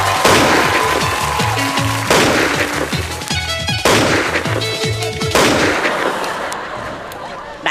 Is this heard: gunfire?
yes